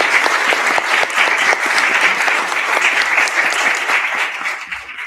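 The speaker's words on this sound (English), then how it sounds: "Please give my panelists a big round of applause." Sustained applause from a conference audience for the panelists, dense and steady throughout with some louder individual claps, and a brief spoken thank-you toward the end.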